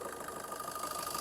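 A 2017 Maruti Suzuki Baleno Alpha's petrol engine idling, a quiet steady hum with a faint rhythmic pulse, brief and alone.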